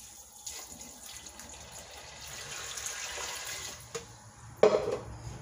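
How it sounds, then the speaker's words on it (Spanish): Water poured onto washed black beans in an electric pot gives a soft, uneven splashing and trickling that builds gradually, ending in a louder brief gush, with no talking. "Voy a echarle el agua."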